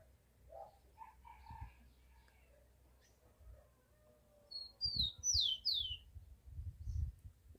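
A rufous-collared sparrow (tico-tico) calls from a bush near caged songbirds, giving a few bright descending whistled notes midway amid quiet rustling and soft thumps close by.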